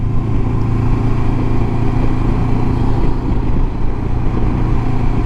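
A Honda CB500X motorcycle rides along country lanes between Fordon and Flamborough, its engine a loud, steady drone mixed with wind rush throughout, with no voices.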